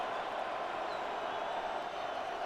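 Steady roar of a stadium crowd in a Madden 26 NFL video game between the Minnesota Vikings and Cincinnati Bengals, a continuous dense wash of cheering noise with no breaks, building ahead of a third down.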